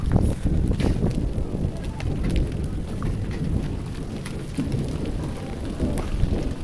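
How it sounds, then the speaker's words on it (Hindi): Light rain patters steadily, a soft continuous hiss with scattered drops ticking nearby. "भाई अब शुरू हो चुकी है बारिश हल्की हल्की"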